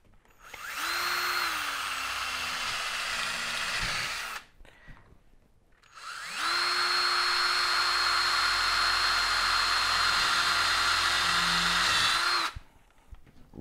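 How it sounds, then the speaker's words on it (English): Two long bursts from a power drill pre-drilling the corner of a concrete form, each whirring steadily for several seconds, separated by a brief pause; close and loud with no talking. "We go ahead and pre-drill the corner."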